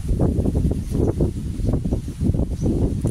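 Wind blows steadily, rumbling and buffeting against the microphone in low gusts, close and fairly loud with no talking.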